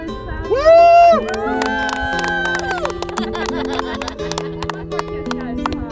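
Wedding guests clap and cheer with a whoop, the bursts of clapping and shouting rising over music and overlapping voices at a lively wedding celebration.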